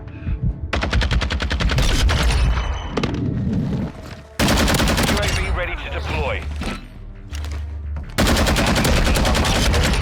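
Gunfire in Call of Duty: Modern Warfare II, loud close bursts of rapid automatic fire broken by short pauses, with game sounds and a voice talking between volleys.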